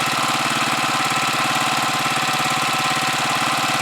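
A Huoniao HN125 motorcycle engine runs steadily at idle, a loud, close, rapid pulsing chug with a constant even rhythm and no voices.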